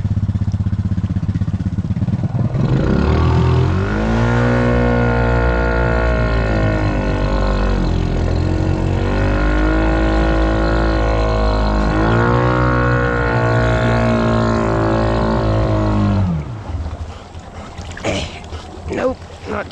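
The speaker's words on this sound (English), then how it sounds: "the four-wheeler is more floaty with these light tires, so it comes off the bottom a lot easier" A 420 four-wheeler ATV on light tires churns through a deep creek, its engine droning loud and close with rising and falling revs, then easing off near the end amid splashing water.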